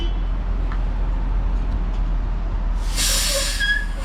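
A Disney World Magic Kingdom tram rolls along with a steady low rumble and hiss, and a brighter whooshing, squealing burst rises near the end.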